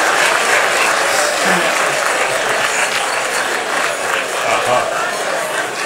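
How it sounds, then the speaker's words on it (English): Dense, steady applause from a crowd at a Bastille Day celebration in Nairobi, loud and continuous throughout with no pauses. "Round of applause as the toast go."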